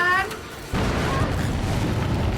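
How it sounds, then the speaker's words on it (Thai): An explosion in the game Dead by Daylight lands as a sudden loud boom partway through, followed by a sustained rumbling roar; a short voice is heard just before it. "เฮ้ยระเบิด"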